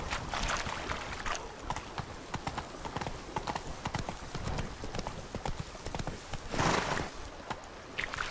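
Galloping hoofbeats from Roach, Geralt's horse in The Witcher 3, pound in a fast, driving rhythm, close and clear, with a brief louder rush of movement partway through and no speech.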